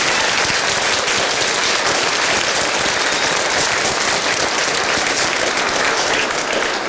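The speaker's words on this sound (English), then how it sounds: "give Betty a round of applause." A community celebration audience gives a round of applause, with dense, sustained clapping from many hands. It is loud and even from start to finish and barely fades.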